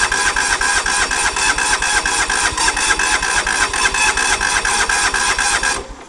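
A John Deere GT 275 lawn tractor engine turns over and runs with a steady, loud, rapid mechanical chatter, close up, that drops away abruptly near the end; no voices.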